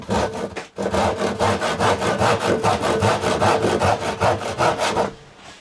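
A freshly sharpened Spear & Jackson crosscut hand saw cuts through wood clamped on a bench, making loud, close, rapid back-and-forth rasping strokes in an even rhythm that stop near the end.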